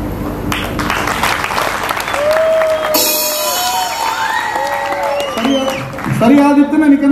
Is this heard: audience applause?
yes